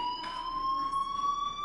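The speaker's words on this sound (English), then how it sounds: "Hey, do you hear that fire alarm?" A fire alarm in the video game Life is Strange rings as a continuous steady high electronic tone, sustained and loud throughout without pause.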